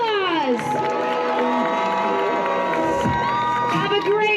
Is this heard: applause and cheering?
yes